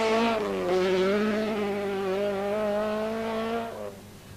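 A Lancia rally car on the 1983 Circuit of Ireland Rally holds a loud, sustained engine note, slightly wavering and rising in pitch, before fading at the end.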